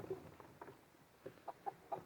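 Hens and a rooster in a backyard coop give several soft, short clucks in an uneven rhythm, faint and fairly close, with no talking.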